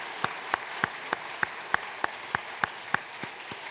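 Slow, evenly spaced single claps ring out one by one in a church worship service, about three per second apart, sparse and fairly quiet over a soft room background.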